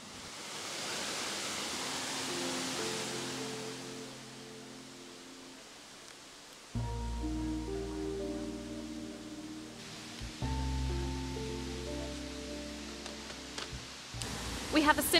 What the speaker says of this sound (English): we're going to get started with the waterfall that's actually right behind you.